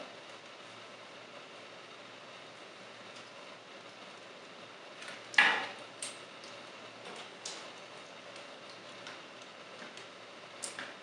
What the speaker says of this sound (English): attach the missile launchers to the arms like so